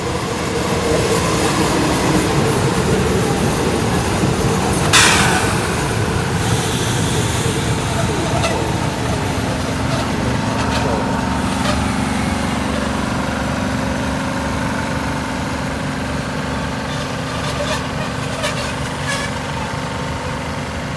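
Diesel express railcar train with a Cummins NTA855-R1 engine on a special air-conditioned service at a station platform, a steady loud engine drone with rolling rail noise and a sharp clank.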